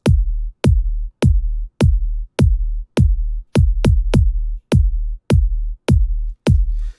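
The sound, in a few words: Kwaito kick drum beat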